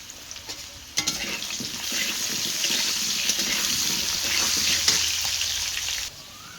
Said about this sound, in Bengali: এই তেলেই আলুগুলো ভেজে নেব আমি।